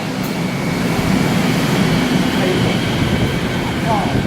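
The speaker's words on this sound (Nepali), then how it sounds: "आयो हाम्रो बिना ड्राइभरको रेल।" Driverless metro train in Korea, a steady broadband rumble and hiss of the running train close by throughout, with a faint voice in the background.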